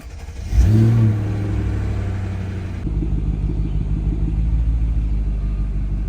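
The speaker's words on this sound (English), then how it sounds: "V8 cold starts are the best" A Mercedes W210 V8 cold start: a starter whirr and rising catch into a loud rev flare, then settling into a deep, steady, throbbing idle heard close by.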